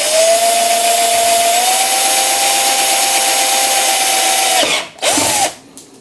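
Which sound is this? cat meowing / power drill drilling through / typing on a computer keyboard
power drill drilling through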